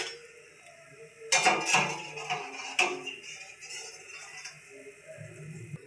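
Freshly fried raw-banana wafers clatter into a serving dish, a few close, bright clinks and rattles of crisp chips against the plate, then quieter scraping and handling.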